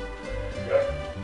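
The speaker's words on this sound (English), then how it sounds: "sorry about the dogs" Dogs give a short yip and bark, a single brief call rising over a low steady background hum of game sound.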